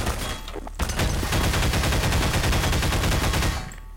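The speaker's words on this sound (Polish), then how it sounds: "Ciekawe, co by się stało, jakbym w nią strzelił teraz." Sustained automatic gunfire in Garry's Mod aimed at an atomic bomb, a dense rapid stream of loud close shots rattling steadily for about three seconds before cutting off.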